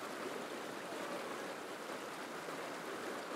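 A stream rushing over boulders outdoors near Washington DC makes a steady, soft, continuous broadband wash of running water with no voices.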